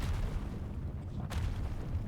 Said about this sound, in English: There is another meteor storm.